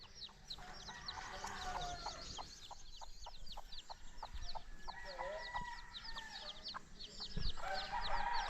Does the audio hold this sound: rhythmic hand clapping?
no